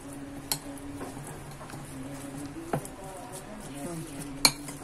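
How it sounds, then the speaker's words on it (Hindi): A spoon stirs and mixes ingredients in a bowl, with a few sharp clinks of metal against the dish amid quiet scraping, close and steady, with faint background tones. "इसको अच्छे से मिक्स कर लेना है"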